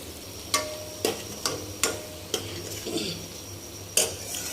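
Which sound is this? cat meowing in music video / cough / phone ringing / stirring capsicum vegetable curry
stirring capsicum vegetable curry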